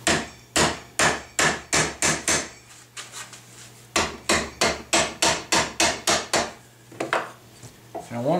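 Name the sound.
rubber mallet tapping a sheet metal buttplate into place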